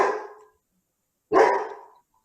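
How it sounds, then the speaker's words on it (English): A dog gives two loud, close barks separated by about a second of silence, with no other sound around them. "Let me get rid of the dog."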